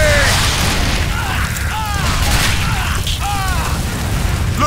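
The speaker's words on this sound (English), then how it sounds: "Grenade!" A grenade goes off in a video game firefight, a heavy boom amid continuous loud battle noise with chirping effects layered over it.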